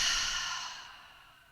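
A single deep exhale during a guided breathing exercise, a breathy close-up sigh that fades out gradually over about a second and a half.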